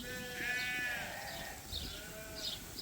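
Sheep on a farm bleat several times in close succession, loud and near, their calls rising and falling over low rustling ground noise.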